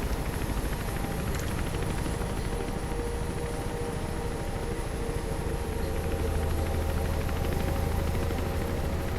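A helicopter in the video game Mirror's Edge drones steadily with a dense, even rotor and engine roar that holds at constant loudness throughout, with no speech over it.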